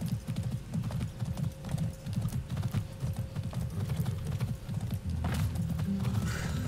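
Rapid, rhythmic clip-clop of horse hooves at a gallop in the video game Far Cry 6, steady and fairly loud, with a brief whinny near the end.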